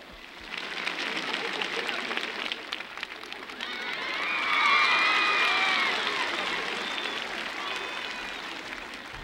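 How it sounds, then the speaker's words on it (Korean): A studio audience at a 1982 year-end youth festival stage show breaks into sustained applause to welcome the judge. The clapping swells to a peak midway through, with whistles and cheers, then holds steady. "심사위원 선생님 모시죠. 박수로 맞아주세요."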